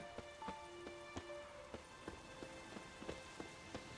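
Steady rainfall in The Witcher 3: Wild Hunt patters down on a surface, with scattered sharper drops ticking throughout; no voices, just continuous moderate rain.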